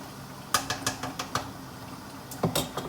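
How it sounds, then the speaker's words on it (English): A spoon stirs a pot of cooking jam, giving a few brief knocks and scrapes against the pot's side, close and fairly faint, with a pair of louder clacks near the end. "Let me just give it a quick stir."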